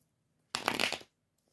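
A large deck of cards being shuffled gives one short, close riffling burst of about half a second, loud against an otherwise quiet background.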